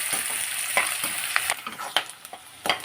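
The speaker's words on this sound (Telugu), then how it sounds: "మనకు ఆనియన్స్ చక్కగా వేగింది కదండి." Onions, green chillies, cinnamon and spice frying and sizzling in hot oil for a Rayalaseema-style boti curry, a steady broadband hiss broken by the sharp scrape of stirring, close and loud, with no talk.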